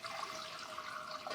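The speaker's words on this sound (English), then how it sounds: "I'm gonna add some water." Water pours steadily from a tap into a cooking pot for shrimp and grits, a close, continuous splashing rush with no voices.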